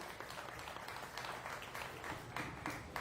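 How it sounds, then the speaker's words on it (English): Spectators at a county fair swine show give a round of applause, a moderately loud, uneven patter of many hands clapping with a few sharper claps standing out. "let's give everybody a round of applause"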